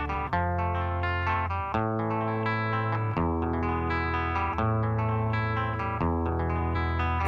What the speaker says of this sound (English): I think that guitar tone that they use in this intro and just obviously the riff